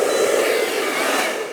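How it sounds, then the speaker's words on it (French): A hair dryer runs steadily with a constant airy whir and a low hum, close and fairly loud, unchanging throughout with no voices. "J'avais laissé le sèche-cheveux en mode fonctionnement."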